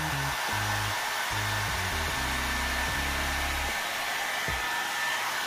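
Hot-air blow dry brush, an AIMA One Step, drying curly hair: a loud, steady whir with a high whine runs the whole time, with low motor tones stepping and cutting out as the settings shift, and no talking.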